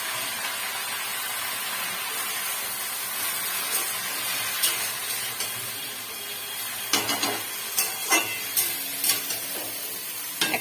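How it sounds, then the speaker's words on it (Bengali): Chopped greens drop into hot oil and fry in a kadai with garlic, a soft steady sizzle joined by sharp scraping and stirring clicks from a spatula in the latter half. "এই যে কেটে রাখা শাকটা এর মধ্যে কড়াইয়ের মধ্যে ছেড়ে দেবো"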